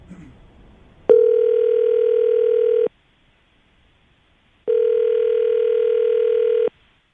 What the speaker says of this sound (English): we're going to call Lisa right now, get her on the phone